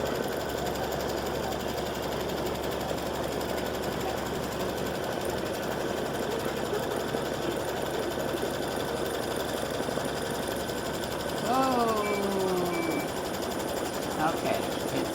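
An embroidery machine stitches a tack-down line on fabric for an in-the-hoop mug rug, its rapid mechanical needle chatter running continuously and fairly quietly, with a brief higher whirring sweep near the end.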